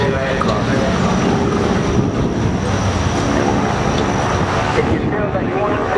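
A North American T-6G Texan, a World War II trainer aircraft, flies during an air display at Shoreham, a loud, continuous broadband engine roar held steady throughout, with a voice speaking over it.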